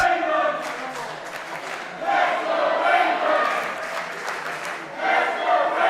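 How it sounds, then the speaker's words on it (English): A wrestling crowd at the Slammasters show in a banking hall cheers and chants in swelling waves, a dense roar of many voices that rises and falls throughout. "it looks like the Slammasters crowd here at the banking hall are behind Raven Creed fully."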